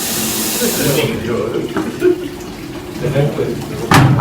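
Sandalwood-scented water poured out for ritual washing, a steady close splashing and trickling stream that runs alone at first, then continues under a voice speaking nearby.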